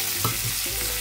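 Beans, carrots and peas sizzle in a hot pan, a close, steady frying hiss with a few soft stirring knocks.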